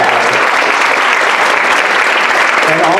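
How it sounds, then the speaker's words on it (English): An audience at a storytelling slam event applauds steadily for a colleague and executive producer, with dense, continuous clapping filling the room at an even level from start to finish. "Please give her a hand."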